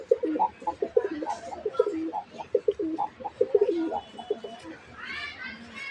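Gorra pigeons cooing nearby in rapid repeated pulsing phrases, with someone talking over the calls and another bird chirping near the end.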